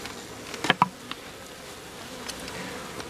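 Bees buzz faintly around a hive entrance in mid-November, a soft continuous drone with a few individual insects passing close by for a moment.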